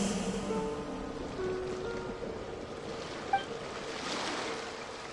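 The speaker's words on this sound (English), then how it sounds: "Go to where you can hear the sound of the waves." Steady wash of ocean waves on a shore in the Genshin Impact video game, a soft continuous surf hiss with a faint musical tone and no voices.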